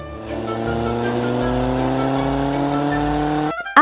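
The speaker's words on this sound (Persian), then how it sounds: "ماشین روی جاده حرکت می کند و صدایش" A car driving on a road, a steady engine tone rising gradually in pitch as it accelerates, loud and close, ending with a short abrupt burst.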